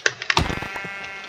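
A sheep in a video game bleats in a few short, bright cries close together, followed by a brief clatter and a fading tail.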